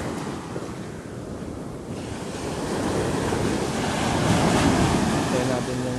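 Big ocean waves roll and crash steadily on a beach in San Felipe, Zambales, a broad continuous wash that swells louder midway, with wind buffeting the microphone.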